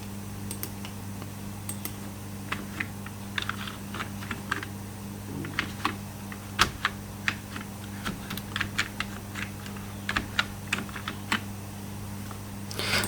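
A computer keyboard clatters with quick, uneven keystrokes in short bursts, close and fairly clear over a steady low electrical hum.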